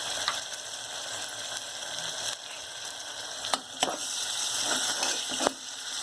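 A ground paste of ginger, garlic, cinnamon and fennel fries with onions in a pan, giving a steady, close sizzle broken by a few sharp clicks and scrapes.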